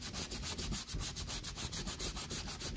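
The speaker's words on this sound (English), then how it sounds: "I take the sandpaper and I sand it back and forth just to get a rough surface" Steady scratchy rubbing of sandpaper on plastic, moving back and forth in quick, even strokes, close up and continuous, on a BMW E65 rear door panel.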